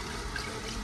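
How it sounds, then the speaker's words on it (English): White vinegar splashes and trickles as it is poured through a soap-making pot to rinse out leftover lye, a brief, steady watery wash at close range with no talking. "we're also gonna rinse it with white vinegar to neutralize any lye that might still be hanging out in there"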